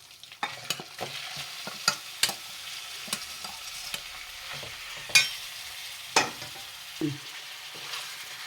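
Marinated chicken tipped into hot oil already frying with ginger and green chillies for chicken tikka, giving a steady broadband sizzle broken by repeated sharp scraping and stirring knocks from a spoon, close and fairly loud, with no voices.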